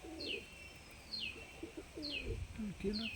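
Golden pigeons coo in a quiet, close setting, with a few soft low coos and intermittent chirps. Faint higher whistling sweeps recur about once a second.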